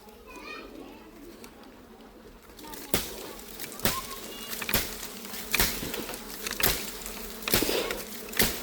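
A honeybee swarm buzzes around a hive on a tree branch as the branch is cut, with a sustained drone broken by a series of loud, sharp chopping impacts at fairly regular intervals.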